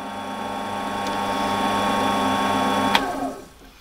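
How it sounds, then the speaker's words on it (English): Metal lathe parting off 12L14 steel, the machine labouring with a steady whining hum and grinding under strain, a sharp click near the end before the sound drops away quieter; no speech. "the lathe really struggled at parting that off"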